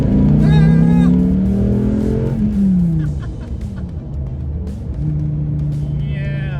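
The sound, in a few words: 2015 Dodge Viper SRT V10 engine revving and accelerating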